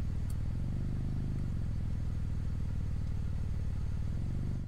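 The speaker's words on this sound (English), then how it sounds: "Ambient and feedback audio, such as engine revving" Simulated car engine in a VR driving simulator, a continuous buzzy rev that climbs and falls in pitch, steady and fairly loud throughout.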